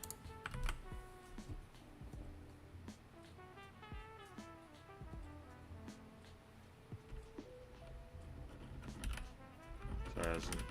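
Rapid, close typing on a computer keyboard in a coding session, with steady clicks and key rattles and occasional louder clacks, faint background music underneath.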